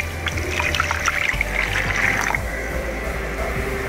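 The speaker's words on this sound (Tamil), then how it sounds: "அந்த தண்ணியை எடுத்து நம்ம ஊத்திடலாம்" Water is poured into a hot box in a home kitchen, a steady trickling splash lasting a few seconds before it tapers off to a quieter fill.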